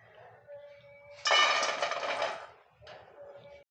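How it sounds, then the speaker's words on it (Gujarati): Crispy fried peanut bhujia rattles and clinks sharply for about a second as the pieces are lifted out of frying oil with a slotted spoon, close by, with soft sizzling before and after. "તમે અવાજ સાંભળી શકો છો કે એકદમ ક્રિસ્પી આપણા સિંગ ભજીયા તૈયાર થયેલા છે"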